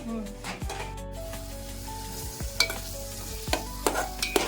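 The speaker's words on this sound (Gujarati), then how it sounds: "એમાં બટર મળી જાય ને એવી રીતે આપણે મિક્સ કરી લઈશું." Paneer frying in butter in a pan is mixed with a spoon. Light sizzling sits under several distinct scraping stirs, which come more quickly in the second half.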